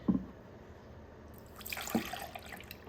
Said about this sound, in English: I will put the cup of oat milk in here.